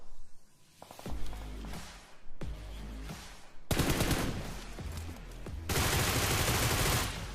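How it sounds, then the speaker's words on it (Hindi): Gunfire in the battle royale game BGMI: dense, continuous automatic bursts rattle almost without pause, growing louder and more layered toward the end, with no speech. "भाई गंदी फायरिंग हो रही है, उधर रुक ही नहीं रही है।"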